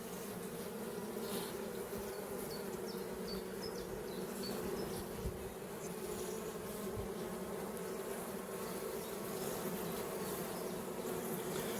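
A honeybee colony in an opened hive at an isolated forest mating apiary gives off a dense, steady buzz that carries on unbroken and fairly close throughout, with no voices.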